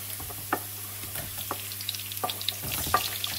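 Lots of garlic sizzles in a pan, a steady close fry crackling under scattered clinks and scrapes of stirring, with no talk.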